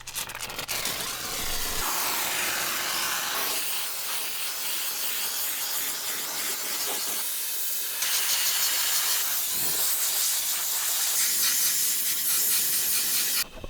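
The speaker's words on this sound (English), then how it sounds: "that's where the steam cleaner is gonna save our lives, because we're just gonna come in here and start rinsing" A steam cleaner blasts a dirty mini excavator with a loud, continuous high-pressure hiss and spray, its tone shifting as the jet moves across surfaces, close up and without talking.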